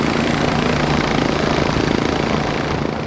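A helicopter flying nearby, loud and continuous with a dense rotor thump and turbine whine that hold steady throughout.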